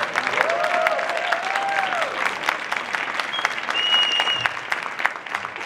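Loud, sustained audience applause at a live show at the Jai Alai venue in Huesca, a dense wash of clapping with whistles and cheers cutting through, holding steady for several seconds.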